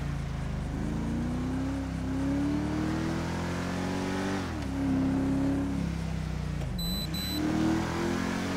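A Dodge Charger engine in the video game GTA V revs and accelerates continuously, rising in pitch through the gears with brief dips at shifts, loud and close, no voices.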